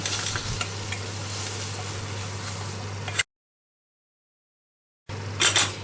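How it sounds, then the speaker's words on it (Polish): Butter and flour frying together in a pan and being stirred into a roux, with a steady close sizzle and stirring scrapes, cut off by a short stretch of silence, then sizzling again. "Do masła dodaję dwie łyżeczki mąki i robię zasmażkę."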